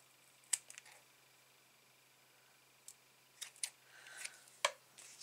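Scissors trim a piece of stamped paper in a quiet room, making a handful of sharp, isolated snips and clicks spread out with near-silence between them.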